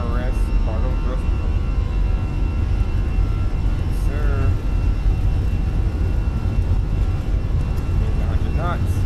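An Airbus A320 takes off in a flight simulator game, its steady engine roar loud and constant throughout, with brief cockpit chimes and a voice talking over it.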